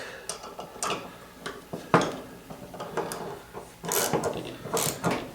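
A wrench clicks and ratchets while tightening a bolt through a cracked jointer part in a workshop, with irregular close metallic clanks and scrapes.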